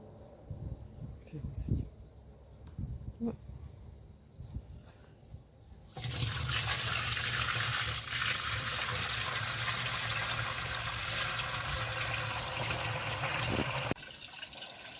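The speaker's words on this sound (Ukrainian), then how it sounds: "на харчову бочку і переціджуємо все вино, яке в нас утворилося." Homemade grape wine pours steadily into a food-grade barrel in a loud, continuous rush after a quieter stretch of handling noises and brief talk, then stops near the end.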